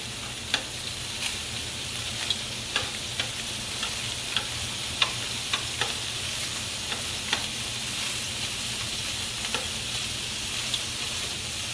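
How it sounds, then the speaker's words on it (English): Sausage browning in a hot pan gives a steady, close sizzle and crackle, broken by soft clicks and taps of stirring or turning throughout, with no voices. "So I'm going to brown the sausage on both sides."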